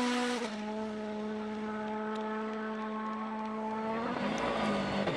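Citroën DS3 rally car at WRC Rally Sweden, a steady high engine drone held at constant pitch, then a shift and roar as it passes, heard at a distance with no talk.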